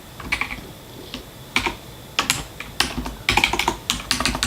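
Someone types on a computer keyboard in bursts of quick, close key clacks separated by short pauses, with no voices.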